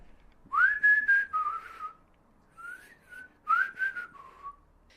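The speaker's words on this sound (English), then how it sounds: "Who's going to teach a parrot to whistle just one cornetto?" A parrot whistles a bright, lilting ice cream advert jingle, "just one cornetto", in two phrases separated by a short pause, clear and close with no other sounds.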